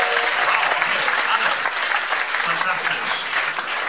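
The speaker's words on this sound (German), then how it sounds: "Will ich mal kurz klatschen, wenn ihr schon mal in Berlin wart?" Stand-up comedy audience at a Stuttgart comedy club clapping in a steady, dense burst that fills the room, loud and close, with no talk over it.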